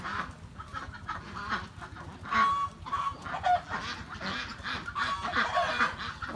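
A flock of ducks walking in line on a farm in Long An, Vietnam, letting out scattered quacks and honks over a busy outdoor hum, several calls clustered through the middle and end.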